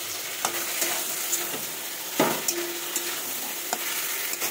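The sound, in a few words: ridge gourd and tomatoes frying and being stirred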